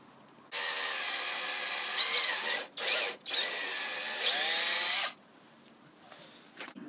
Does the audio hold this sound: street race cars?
no